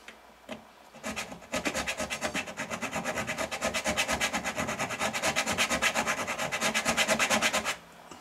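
Sandpaper rubbed against a part of an Epiphone Emperor Joe Pass archtop guitar in steady, rapid back-and-forth rasping strokes, close and loud, running continuously for several seconds after a brief start.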